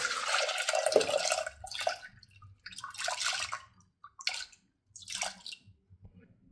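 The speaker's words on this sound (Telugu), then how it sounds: "కుక్కర్ తీసుకుని ఈ వాటర్తో పాటు పప్పును కూడా వేసుకుంటాం." Water and lentils splash and pour into a pressure cooker in several short bursts with brief pauses between, close by, with light drips.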